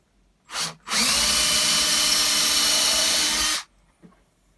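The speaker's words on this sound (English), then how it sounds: "I'm going to sink a screw right into this, into my workbench, to hold it down" A power drill sinks a screw into a workbench to hold down a steel knife-making jig: a short burst, a pause, then one long steady whine for almost three seconds, close and loud, then silence.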